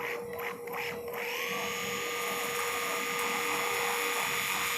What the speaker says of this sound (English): then we run the drill bit right over